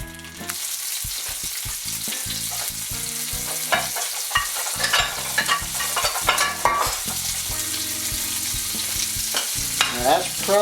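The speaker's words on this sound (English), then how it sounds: "And I want it to be sizzling and melt a little bit." Butter sizzling in a hot non-stick pan with egg rings, a loud continuous crackling fry with sharp pops and bursts, alone without talk.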